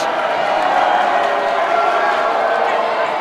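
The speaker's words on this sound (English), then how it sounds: "Osprey crowd getting into it now." Home crowd at an Osprey men's college basketball game against Rowan, a dense, loud roar of cheering and shouting that fills the gym steadily for a few seconds, with a voice over it.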